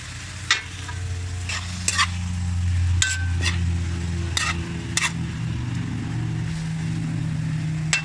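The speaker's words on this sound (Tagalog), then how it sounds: "Igisa na natin yung ating manok" Chicken being sautéed in a pan for tinola with taro. Sparse utensil scrapes and clicks sound over a faint sizzle, all set against a steady low hum that continues throughout.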